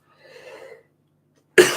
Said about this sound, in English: Must try and cough away from that microphone.